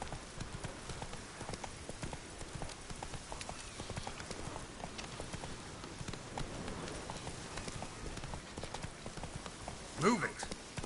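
A horse gallops in The Witcher 3, its hooves drumming in a fast, steady clip-clop rhythm the whole way, with a brief louder burst near the end.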